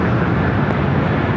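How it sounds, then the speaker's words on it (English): A Delta Airbus A350 jet airliner at LAX gives a loud, steady broadband engine roar, close and continuous over a short stretch with no other sounds. "Got a A350 Delta heading to Atlanta."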